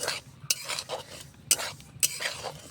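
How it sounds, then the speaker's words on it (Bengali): Semolina being stirred and roasted in a wok-style pan, a spatula scraping through the dry grains in repeated close strokes with sharp clicks against the metal, no voices. "আস্তে আস্তে নাড়াচাড়া করে সুজিগুলো লাল করে ভেজে দেব।"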